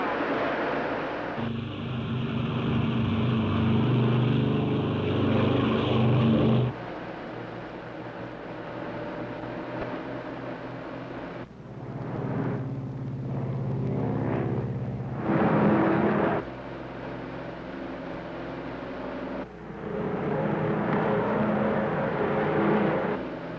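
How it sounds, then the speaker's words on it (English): A 1953 propeller airliner at takeoff power gives a loud, broad engine roar heard from inside, surging and easing in long stretches, with no talk over it. "Ready for takeoff. Takeoff power. Takeoff now."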